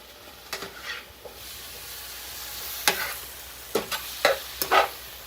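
Peppers fry in a pan, a steady soft sizzle broken by a few clinks and scrapes of stirring, heard close with no one speaking.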